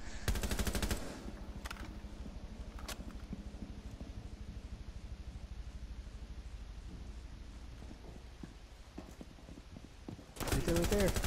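Gunfire in the video game Gunslinger Siege: a loud opening burst, a couple of isolated sharp shots, and a renewed heavy burst near the end, over a steady game background with voices speaking.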